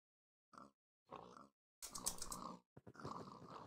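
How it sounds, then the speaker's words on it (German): Pigs grunting in a pig farm in the LandOfRails game, several short separate grunts close by, followed by longer louder snorting bursts, with silence between. "So, paar Schweine hier in der Schweinefarm."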